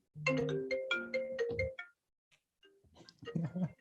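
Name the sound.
mobile phone ringtone ringing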